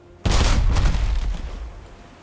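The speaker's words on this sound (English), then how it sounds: "So I kind of scared him away with that cannon shot" A pirate ship cannon in the Unearned Bounty video game fires one sudden heavy boom, then a rumbling blast that slowly decays over the next two seconds.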